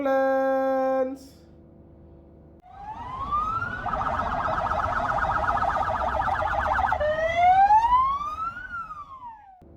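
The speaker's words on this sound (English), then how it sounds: "ambulance." Ambulance siren wailing loud and alone, with a brief electronic tone first, then a rising whoop, rapid warbling yelp and a final long sweep up and down.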